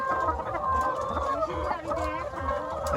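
A flock of beak-trimmed chickens on a chicken farm clucks continuously close by, many overlapping calls forming a busy, steady chatter.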